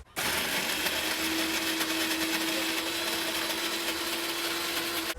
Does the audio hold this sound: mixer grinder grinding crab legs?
yes